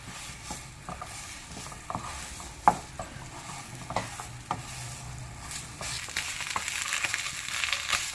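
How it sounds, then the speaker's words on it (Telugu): Almonds fry gently in homemade ghee, a soft sizzle broken by spoon taps and scrapes against the pan, the hiss rising toward the end. "నెయ్యి వేసాం కదా, చక్కగా వేగుతుంది."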